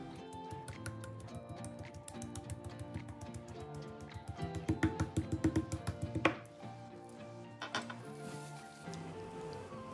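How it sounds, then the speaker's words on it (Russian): Chicken fillet being pounded under cling film in a home kitchen, a run of quick, light, evenly spaced thuds and taps that speeds up and grows louder before stopping, followed by a couple of scattered knocks. "И слегка отбиваю."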